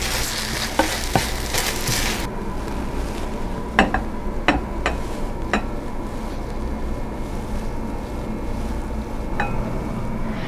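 Beef fried rice sizzles steadily in a hot pan after a soy sauce and coffee mixture goes in, with a few sharp utensil clicks against the pan over the constant frying hiss.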